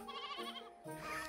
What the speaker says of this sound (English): Now, what sound do sheep make?